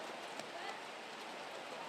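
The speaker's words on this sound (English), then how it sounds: "And hear the footsteps splosh against the water." Wet footsteps splash across a rain-soaked field during a girls' high school soccer match, a faint, steady patter of splashing that carries no clear rhythm.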